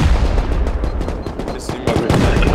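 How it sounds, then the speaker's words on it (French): Rapid gunfire from a Rust multiplayer base raid, a dense burst of loud repeated shots packed closely together over a short stretch, with a brief lull in the middle and talk underneath. "Pourquoi il nous tire dessus les collègues?"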